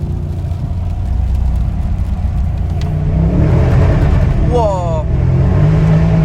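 A Mercedes E63 AMG engine revs in second gear, a loud, steady droning roar heard from inside the car, with people talking over it throughout.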